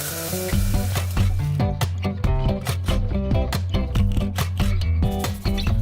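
Carrot and mixed vegetables sizzle loudly in a pan, a dense steady crackle broken by rapid clicking pops and bursts of spitting through the whole stretch, with no voices.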